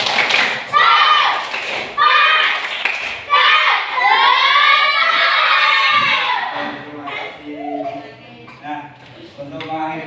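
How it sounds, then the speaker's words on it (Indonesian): A school class doing the rhythmic 'tepuk semangat' spirit clap, with many children chanting loudly together between claps, then a softer chanted ending. "sekali lagi tepuk semangat"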